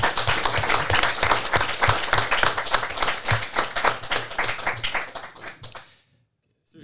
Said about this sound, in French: je pense qu'on peut donner une bonne main d'applaudissements à nos deux compagnons